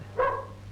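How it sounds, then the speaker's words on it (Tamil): A single short bark from a dog at a house, fairly close and clear over a low background hum. "சார், நாய கூப்பிடுங்க. நாயாது நரி மாதிரி இருக்கு."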